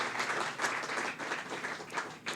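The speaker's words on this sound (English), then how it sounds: "one more round of applause for Marion" An audience at a book awards reading gives a round of applause, even clapping from a modest crowd, fairly quiet and steady throughout.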